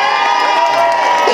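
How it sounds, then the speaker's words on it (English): A large audience cheers and shouts loudly for Meredith Vieira at a Hounds on the Sound event, a dense continuous roar of voices with children's shrieks mixed in, sustained throughout without a break. "You got more of a cheer than we did."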